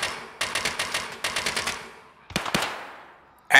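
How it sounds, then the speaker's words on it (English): Rapid bursts of automatic gunfire from an enemy in Escape from Tarkov, two long rattling strings of shots followed by a couple of sharper separate cracks, loud and close with no talking. "Oh, he's trying to shoot at me."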